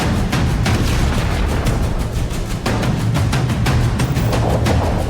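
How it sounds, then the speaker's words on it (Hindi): An Iranian truck explodes after an Israeli strike: a dense, loud roar of explosions and booming blasts with sharp cracks scattered throughout, continuous and chaotic with no voices. "जबरदस्त विस्फोट होता है और ईरानी ट्रक तबाह हो जाता है।"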